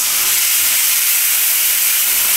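A loud, steady hiss of onion, garlic and ginger paste sizzling as it hits a hot pan, sustained without pause.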